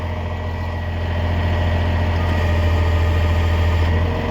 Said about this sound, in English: I kind of like to watch the truck and I listen to the crane.